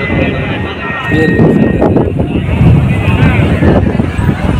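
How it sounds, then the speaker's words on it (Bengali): Strong wind buffets the microphone in a loud, continuous roar at a riverside ghat where two rivers meet, with a person talking underneath. "ও বাতাস, তার জন্য ভালো লাগতেছে আর কি।"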